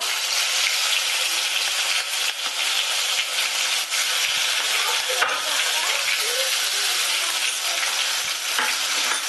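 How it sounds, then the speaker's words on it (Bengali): Onion paste sizzles and spits in hot oil with whole spices in a pan for a jackfruit muitha, a bright continuous frying hiss broken by scrapes and stirring clicks; no talking. "পেঁয়াজ বাটা দেওয়ার পর পেঁয়াজের কাঁচা গন্ধ যাওয়ার জন্য পেঁয়াজটাকে আমি একটু 1 মিনিট ধরে ভাজা করে নিচ্ছি।"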